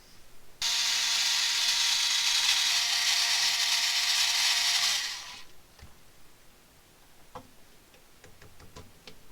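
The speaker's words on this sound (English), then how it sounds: "the first thing we do is take out these 4 screws" Four screws being taken out of the bumper of an Axial SCX10 II 1955 Ford F-100 RC truck: a loud, steady whirring buzz lasting about four seconds, followed by quieter scattered ticks and clicks of loosened hardware.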